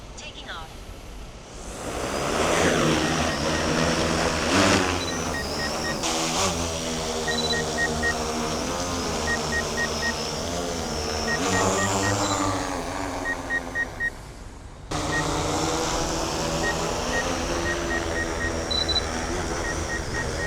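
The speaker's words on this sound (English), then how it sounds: "What's really impressive about this drone is the noise it makes." DJI Matrice 400 drone propellers spinning up for takeoff, a loud, steady rotor hum with layered harmonic whine that rises and shifts in pitch, plus faint repeated beeps, over about twenty seconds.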